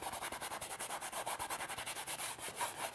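A paintbrush scrubs light blue-gray underpainting onto canvas for a winter mountain landscape, making quick, steady rhythmic rubbing strokes, close and soft, with no voices.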